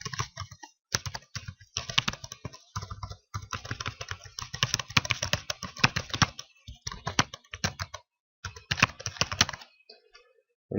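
Rapid, uneven keystrokes clatter on a computer keyboard in bursts with short pauses, close and fairly quiet.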